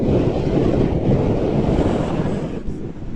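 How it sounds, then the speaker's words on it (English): Strong wind buffets the microphone in a steady, loud roar for the whole stretch, recorded outdoors while riding a Kingsong KS16X electric unicycle at around 25 mph. "It's very windy today."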